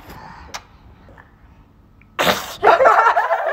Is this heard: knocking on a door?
no